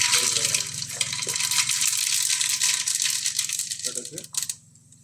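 Mustard seeds crackle and rattle in hot oil in a pan, a dense close spluttering that slowly thins out before stopping near the end, with a voice briefly heard.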